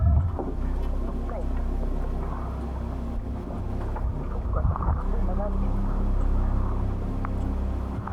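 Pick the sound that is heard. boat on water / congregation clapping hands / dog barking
boat on water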